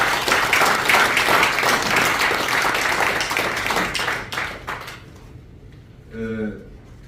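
Sustained applause from members at a Korean retired generals' association general meeting, approving the election of officers. The clapping fades out near the end, then a voice briefly speaks.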